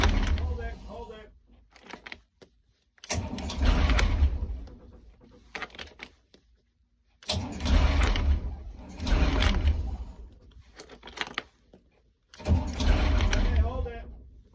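An engine cranks and catches in several separate bursts, each settling into a brief rough idle, with voices talking in between.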